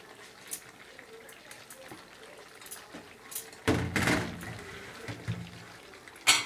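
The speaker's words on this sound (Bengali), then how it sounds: "এবার আমি পরিমাণ মতো গরম জলটা দিয়ে দেবো।" Hot water poured from a vessel into chicken curry cooking in a pot, a loud splashing gush after a quieter stretch of faint kitchen clatter, followed by softer trickles and a clink.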